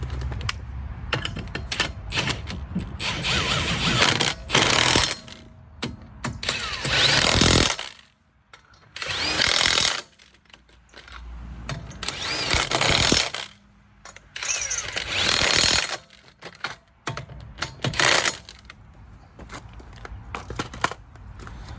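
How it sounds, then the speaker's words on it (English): Toyota Corolla being worked on at the wheel, with bursts of loud mechanical ratcheting and rattling as the car jack is cranked down, separated by brief quiet gaps. "And once it's all the way tight, then you'll release the jack all the way down."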